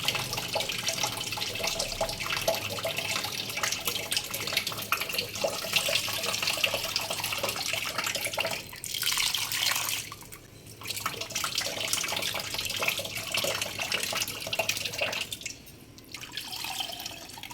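Tap water runs steadily into a container of rinsed lentils to soak them, a continuous broadband splashing stream with brief dips near the end, alone without talk.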